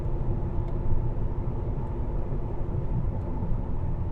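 Steady road noise of a car driving straight ahead on a German road, a dense low rumble of engine and tires holding even and close throughout, with no voices.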